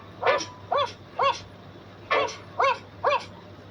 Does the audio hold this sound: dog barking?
yes